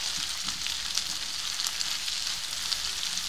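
Dried loitta fish, onion and garlic crackle steadily in hot oil, a close, constant sizzle dotted with small pops and stirring sounds, with no talking.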